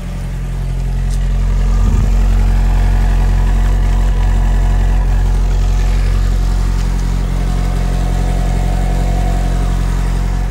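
A 1973 Citroën DS convertible with a new exhaust idles close by, a steady deep rumble with a low hum holding evenly throughout.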